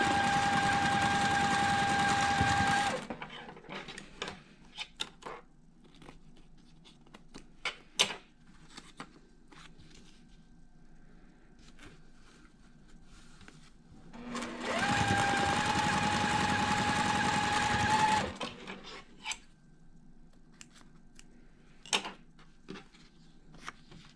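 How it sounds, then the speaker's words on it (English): A sewing machine stitches a quilt block along a marked line in two loud bursts of rapid whirring, each a few seconds long, separated by quiet handling clicks and rustles. "we're going to line up the corner and stitch right on that line"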